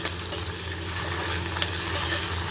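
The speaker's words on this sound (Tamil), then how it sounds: "இப்போது வெங்காயத்தை வந்து நல்லா வதக்கி விட்டுக்கோங்க." Onions for soybean chukka sauté in a pan with a steady close sizzle and frying crackle, broken by occasional stirring scrapes, and no voices.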